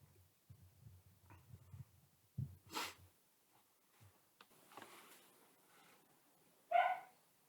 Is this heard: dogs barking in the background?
yes